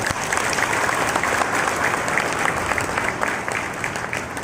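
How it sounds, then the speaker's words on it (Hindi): An audience at a distributor celebration speech in Chandrapur claps in a loud, dense, steady burst of applause that fills the whole stretch without letup. "तो आपकी जोरदार ताली होनी चाहिए मेरे साथियों"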